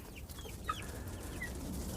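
Seven-week-old chicks cluck and peep faintly in short scattered calls over a steady low background hum.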